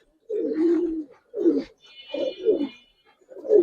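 Giribaz pigeons, just released, give soft repeated cooing calls close by, several low rolling coos with short pauses between them.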